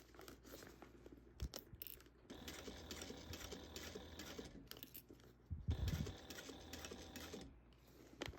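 A sewing machine stitches a fabric Hello Kitty tote bag in steady mechanical runs, with a brief pause partway through and a louder, heavier burst of stitching near the end.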